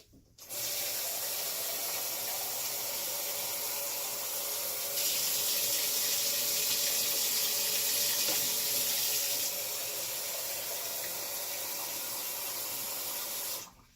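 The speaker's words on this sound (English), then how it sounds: "Pour a cup of kind of hot water." Hot water runs steadily from a tap into a cup for watercolor mixing, a continuous bright hissing pour that swells slightly midway and stops cleanly at the end, with no talking.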